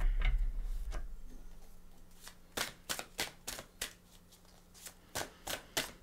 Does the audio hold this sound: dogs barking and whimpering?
no